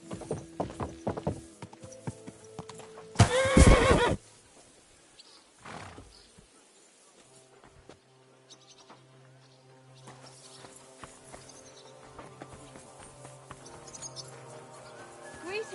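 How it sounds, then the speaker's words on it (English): A horse in Kingdom Come Deliverance 2 gives a loud neigh around the fourth second, with softer hoof clops and game ambience before and after; a voice speaks briefly near the start. "Easy, good horse."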